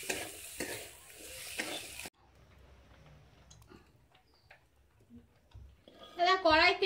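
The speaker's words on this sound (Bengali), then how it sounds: "আলুগুলো ততক্ষণ ভেজে নিই।" Potatoes fry in oil in a slightly scorched wok, giving a loud, steady sizzle that breaks off after a couple of seconds, leaving faint kitchen clatter and then a brief burst of voices.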